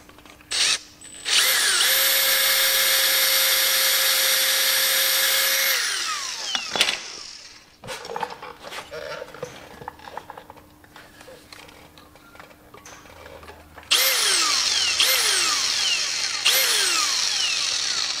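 A power drill with a left-hand bit drills out a broken bolt on a Massey Ferguson 135 tractor, whining at high speed in long bursts, stopping and restarting, with clanks and handling noises between runs.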